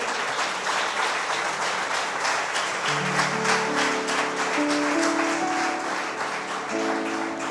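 Congregation applauding inside a church during a Spanish-language service, a dense, steady wash of clapping throughout, with sustained music tones entering partway and swelling under the applause.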